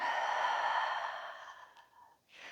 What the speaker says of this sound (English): Through your mouth, exhale it out.